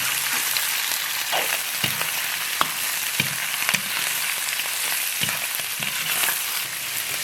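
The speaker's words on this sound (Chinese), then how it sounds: "炒香以后下入驴肝" Donkey liver stir-fried in a wok with hot oil, scallion, ginger, garlic and chili, giving a loud, continuous sizzle broken by intermittent scrapes and taps of the spatula, with no voices.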